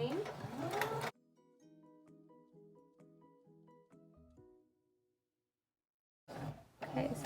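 A sewing machine stitches around the end of a fabric scrunchie in a steady mechanical whir lasting several seconds, with brief pauses, then stops; a voice talks before and after the stitching.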